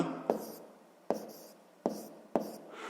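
Handwriting during a math exercise, four separate short scratchy strokes of pen on paper spaced under a second apart, close and quiet with soft rubbing between them.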